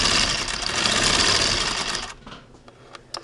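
A Singer Spartan sewing machine runs at speed with a dense rapid mechanical chatter for about two seconds, then stops, leaving a few faint clicks and knocks.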